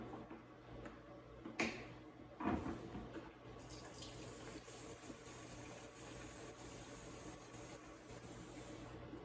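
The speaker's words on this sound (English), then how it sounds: "we're just giving her a splash of fuel" Fuel splashing into the tank of a Polaris Outlaw 50cc four-stroke quad, a steady faint liquid trickle in a garage with a couple of brief clunks near the start.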